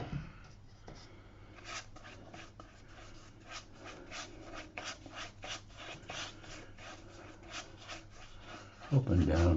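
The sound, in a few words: brush applying a water wash over watercolour paper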